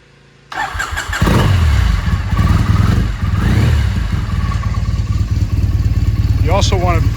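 A 2001 Triumph Bonneville motorcycle is started cold on the choke: a brief cranking clatter, then the engine catches and settles into a loud, steady close-up idle, with someone talking briefly near the end.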